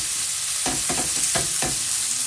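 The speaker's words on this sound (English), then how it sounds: "We're just going to stir this in, and we're going to continue to cook this, get the onions a bit browner." Onions for a spicy prawn masala sizzle steadily in a pan while a spoon scrapes and stirs through them in four distinct strokes, close and without talk.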